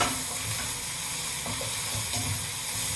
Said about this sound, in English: give it a nice stir. We want the meat to now get slightly brown.